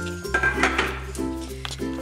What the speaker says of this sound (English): I'm now going to add this pasta to my frying pan